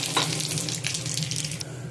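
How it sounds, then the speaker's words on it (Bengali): Whole dried red chillies, bay leaf and radhuni seeds hit hot oil for a tempering while cooking Bengali dub shukto, giving a steady, close hiss and sizzle that holds evenly throughout with no voices. "এবার এই তেলে আমি গোটা শুকনো লঙ্কা, তেজপাতা আর রাঁধুনি ফোড়ন দিলাম"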